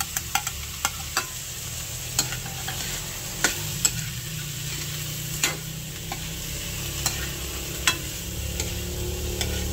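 Ginger frying in a pan, a steady sizzle with a series of sharp spatula clicks and scrapes as it is stirred, no talking.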